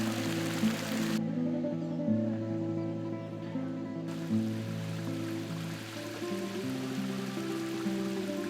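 Water runs steadily down the stone water stairway in the Generalife gardens of Granada, a continuous near rush and trickle beneath a soft melodic music bed, with no speech.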